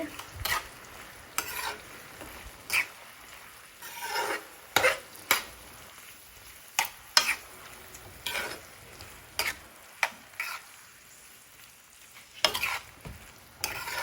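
Spices being mixed into pabda catfish in a pan, with repeated sharp scrapes and clinks of a utensil over a faint background sizzle.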